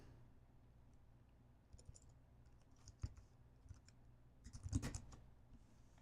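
Scattered keyboard clicks tap out in short, uneven bursts, quiet at first and then a busier cluster of keystrokes near the end.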